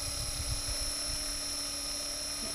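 A KDS radio-controlled model helicopter runs with a steady, continuous motor and rotor whine holding a constant pitch, with a low buzzing hum underneath.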